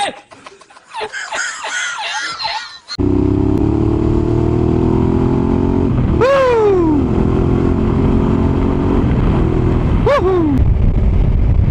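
A touring motorcycle engine drones steadily while riding, with two rising then falling whines of vehicles passing close; a short burst of laughter opens.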